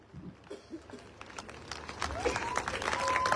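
Scattered clapping from a seminar audience in Lucknow, building from a few faint claps into a fuller, steadier applause over a few seconds, heard at a distance amid room noise.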